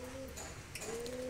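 Pigeons kept by a farmer coo softly and steadily in a low, faint purring tone, heard close by at a quiet level.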